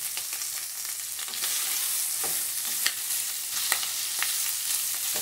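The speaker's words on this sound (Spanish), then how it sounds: "Nada más para que se fría, se dore bien." Pork leg sizzles and browns in a pan, a constant loud hiss of frying fat with occasional sharp pops and stirring scrapes, close and without talk.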